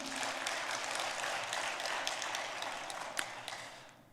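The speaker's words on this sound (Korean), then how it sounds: "아주 다 박수 한번 해주죠" Audience applause in a church service for a soloist from a municipal choir and the accompanist: steady, dense clapping filling the whole stretch, fairly close, fading slightly toward the end.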